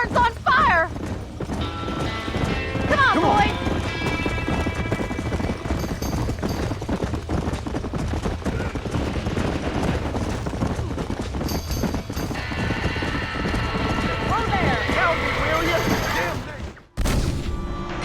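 Horses in Red Dead Redemption pound and clatter amid a burning barn, with gunfire bursts, crackling and shouted voices layered over a dense, loud, continuous game soundscape.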